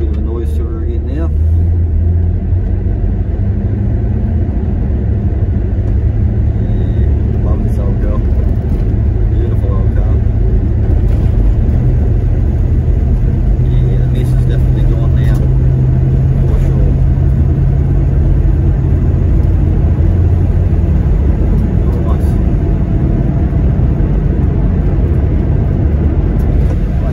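Ford Ranger engine fitted with a 2.5 inch muffler and tailpipe, a steady low rumbling idle that stays loud and continuous throughout, with speech over it.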